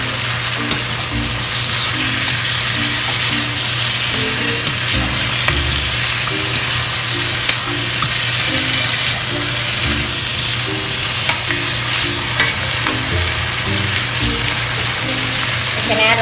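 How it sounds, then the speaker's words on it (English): Vegetables for Filipino pancit bihon stir-fry in a hot pan with a loud, continuous sizzle, broken by periodic scrapes and knocks of the utensil, and a faint repeating tonal pattern sits beneath. "We'll just continue to stir fry those veggies."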